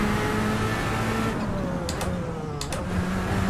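A racing car engine in the Assetto Corsa driving game revs and holds a steady, buzzing drone, with brief sharp shifts or blips between the notes, loud and close throughout.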